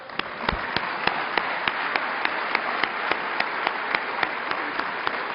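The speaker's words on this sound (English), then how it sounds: "give them a round of applause" A large conference audience at a DrupalCon closing plenary claps steadily, a dense, even wash of applause with a few sharper individual claps standing out, heard from a distance and without talk.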